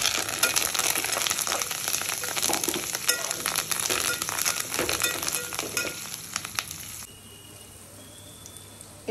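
Dry red chillies roasting in hot oil for leftover-rice pulihora: a steady close-up sizzle with scattered crackles and pops, which drops to a quieter hiss near the end.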